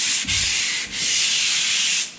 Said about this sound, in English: Okay, so a little bit of light sanding.